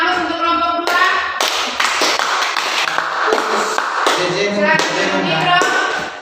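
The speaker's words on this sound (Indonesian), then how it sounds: "Berikan aplaus untuk kelompok 2" A classroom group applauds with a burst of hand clapping, loud and close, lasting several seconds with uneven rhythm and a brief voice mixed in.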